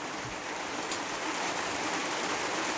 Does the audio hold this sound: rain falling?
yes